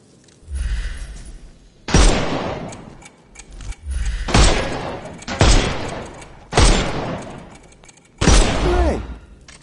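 Heavy, booming gunshots from the Sherlock Holmes Chapter One video game, aimed at enemies' armour, land in five loud separate blasts, each fading out before the next.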